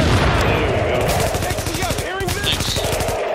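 Sustained automatic gunfire in The Division, a rapid, even rattle of shots near the player, with a brief voice and electronic chirps in the middle.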